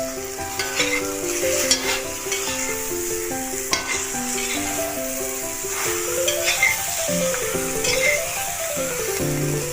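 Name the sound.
stirring raw mango pickle with sugarcane jaggery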